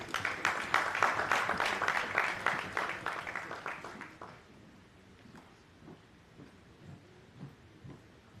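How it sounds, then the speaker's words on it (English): Audience applause at a national labor conference in Freetown, Sierra Leone, a dense rhythmic burst of clapping that holds for about four seconds, then fades to scattered quiet claps and room noise. "A round of applause, please."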